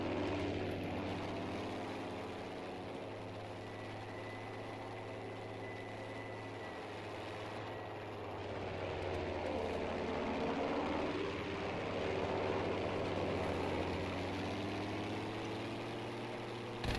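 Propeller fighter plane in Battlefield 5's Pacific setting, a steady droning engine hum with a low buzzing tone, swelling slightly louder as it passes, heard continuously without talk.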